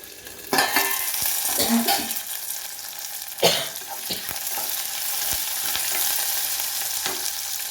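Onions fry in a covered pan for a mango chutney, giving a soft, steady sizzle throughout with a few louder clatters and scrapes near the start and middle.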